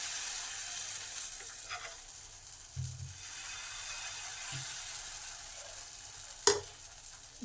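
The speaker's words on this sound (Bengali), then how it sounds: "এবার এই ব্যাটারের 1 হাতা পরিমাণ এই প্যানে দিতে হবে।" Rice dosa batter sizzles softly in a hot pan over low gas. A faint, steady hiss runs throughout, with a few low clunks and a sharp scrape or tap near the end.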